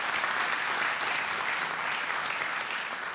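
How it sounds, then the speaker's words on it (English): A debate audience gives sustained applause, a dense even wash of many hands clapping at once, fairly distant and steady, with no voices. "Clap for yourselves."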